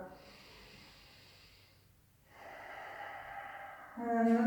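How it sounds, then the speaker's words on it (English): Slow, deep breathing held in plank pose during a morning yoga class, a soft long exhale followed by a stronger inhaling rush, heard close and alone with no talk. "Let's do one more big breath."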